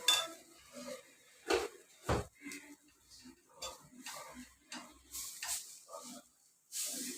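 Noodle ingredients are mixed in a metal pan, with intermittent clinks, scrapes and knocks of a utensil against the pan, fairly quiet and close, coming in irregular bursts with short pauses between.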